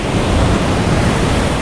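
Steady roar of ocean surf washing onto Port Barton beach, loud and close, with a windy rush over the microphone and no voices.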